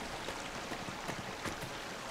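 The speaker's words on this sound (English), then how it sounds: "Well, here's some water." Running water in Dragon Age Inquisition, a quiet steady wash of stream-like rushing with small splashy flickers, soft and continuous with no voices over it.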